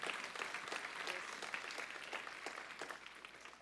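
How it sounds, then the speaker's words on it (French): A congregation at a church service claps together, fast overlapping handclaps forming steady, fairly faint applause heard from some distance that tapers slightly at the end. "Et on applaudit ce que Dieu va faire"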